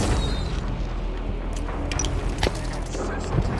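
Plasma caster weapon in Halo 5 firing and bursting, a dense booming blast that fills the clip alongside continuous game noise, with a voice talking over it.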